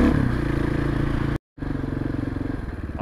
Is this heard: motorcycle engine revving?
yes